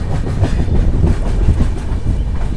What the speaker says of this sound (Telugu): సో నౌపాడ జంక్షన్కి మన ట్రైన్ వచ్చేసి దాదాపు 30 నిమిషాలు లేట్గా అయితే వచ్చింది.